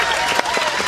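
An audience at a religious lecture in Taiwan claps in a brief, dense burst that fills the moment without any speech over it.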